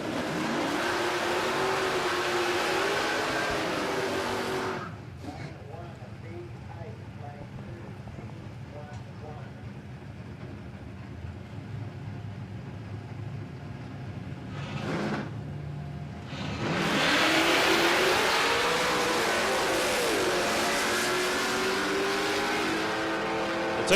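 A drag racing ute and a hot rod launch side by side down the strip at Palmyra Raceway, loud roaring engines near at first, fading into the distance, then surging again as another pair of cars fires off, with commentary running over them.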